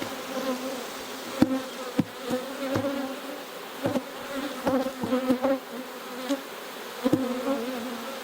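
Honey bees hum steadily around an open beehive frame with capped brood, a dense droning buzz broken by scattered sharp clicks and knocks from handling the hive.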